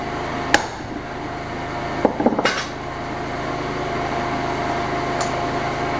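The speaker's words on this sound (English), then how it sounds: "Take a decent sized hammer" A few sharp metallic hammer blows ring out on a cable crimping tool set on a concrete floor, one single strike then a quick cluster of hits, over a steady background hum.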